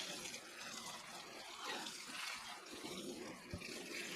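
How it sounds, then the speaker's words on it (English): Water is poured into a soil-block mix for seed starting, giving a soft, continuous splashing and trickling that stays faint and steady with no talking. "Let's add more water."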